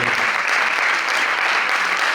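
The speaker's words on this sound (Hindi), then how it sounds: "जोरदार तालियां दर्शकों से मैं अनुरोध करूंगा कि इन कलाकारों के लिए और इस बेहतरीन प्रस्तुति के लिए" Audience at a stage play about Sant Kabir breaks into dense, sustained applause for the performers, a steady wash of many hands clapping close and loud throughout.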